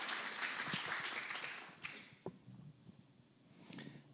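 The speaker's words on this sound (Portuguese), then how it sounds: "Palmas para ela, que ela merece mesmo." Audience clapping for an editor and curator at a literary talk, moderate applause that tapers off after a couple of seconds into scattered claps and faint murmurs, then a brief swell near the end.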